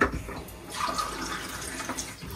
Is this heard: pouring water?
yes